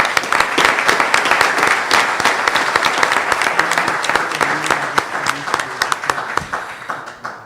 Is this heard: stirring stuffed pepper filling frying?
no